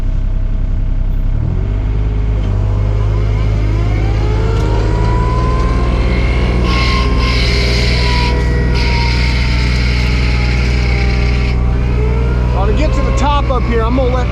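An excavator mulcher runs steadily and loudly while mowing down gum trees, its engine droning with a rising pitch and strong high-end grinding bursts as it cuts through the wood, with a voice speaking over it.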